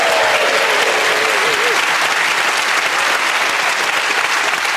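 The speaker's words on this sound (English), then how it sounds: "So a round of applause for the seconds." A television studio audience applauds at a panel game show recording, steady dense clapping near and loud throughout, with no pause.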